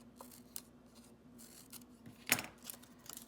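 Scissors snip paper for a paper sculpture, several quiet crisp cuts in an irregular rhythm with one sharper snip, close and faint in a still room.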